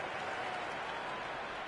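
A stadium crowd in the Cricket 26 video game, a broad, steady roar of cheering and applause filling the short stretch without a break.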